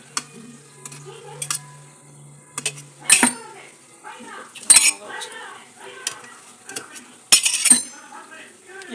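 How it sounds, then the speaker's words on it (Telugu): Homemade paneer being cut into pieces with a knife in a home kitchen, giving a series of sharp clinks and taps on a plate at irregular intervals, with a faint low hum in the background. "ఇప్పుడు దీన్ని మనం ముక్కలు కోసేసుకుందాం."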